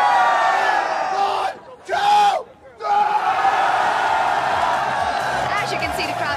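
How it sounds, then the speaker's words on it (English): A hyped crowd at an esports gaming event cheers and yells loudly, a sustained roar with a brief dip and a rising chant in the middle, before the din swells again and carries on. "As you can see, the crowd is absolutely hyped for a big day."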